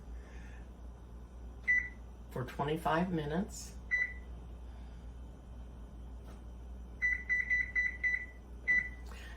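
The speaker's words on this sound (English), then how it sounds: "I'll set the timer" An oven timer gives short beeps as it is set, first single tones, then a quick run of rapid beeps, with a person speaking briefly in between.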